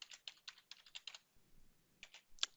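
Rapid keystrokes on a computer keyboard as a formula is entered into a Revit family parametric table, arriving in quick bursts with a short pause before a few final clicks.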